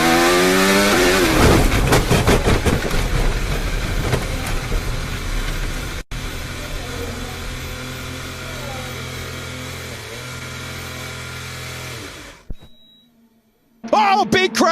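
Onboard Formula 1 car with the throttle held, a loud continuous engine drone with shifting pitch that cuts out abruptly near the end, followed by near silence and then a sudden loud burst, with commentary over it.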